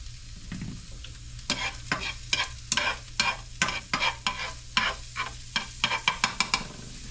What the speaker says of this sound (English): I've got like a couple tablespoons of olive oil in the skillet. And the first thing I want to do is I'm going to put my onions